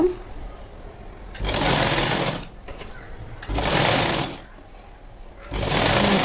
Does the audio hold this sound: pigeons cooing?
no